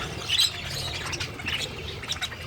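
An off-white, cream-colored pet parrot gives a few short, sharp squawks and chirps close by, scattered over a quiet indoor background.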